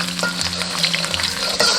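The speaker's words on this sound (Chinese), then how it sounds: "锅中倒食用油， 加入姜蒜炒香" Ginger and garlic sizzle in hot cooking oil in a wok, a steady close frying crackle with scattered pops and faint clinks of stirring, no voices.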